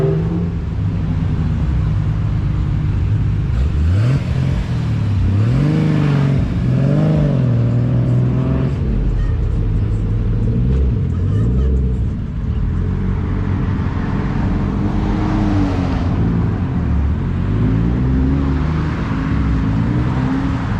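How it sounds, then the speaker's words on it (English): Cars roll up at a Datsun car show, among them a Mark IV Supra and a Nissan GTR. Loud nearby engines rumble and rev in rising and falling swells over a constant idling drone, with no talk. "we got a sick lineup rolling up"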